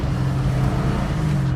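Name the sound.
1967 Ford Mustang GT500 restomod 520ci engine running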